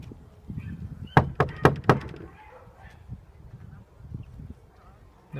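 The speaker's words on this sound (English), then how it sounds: "Just coming to knock on the door." Four sharp knocks on a door at a Blackminster antiques dealer's premises ring out in quick succession, loud and close, then quiet background follows.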